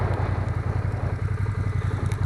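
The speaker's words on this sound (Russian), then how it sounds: "Забрал мопед с ТО." A moped engine, just collected from servicing and due for a control unit replacement, runs at a steady idle with a close, even low chugging pulse.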